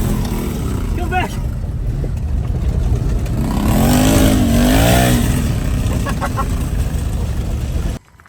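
Motor of an RC monster ATV driving in an open area, a whining buzz that swells and revs in waves, close and loud, then cuts off abruptly at the end.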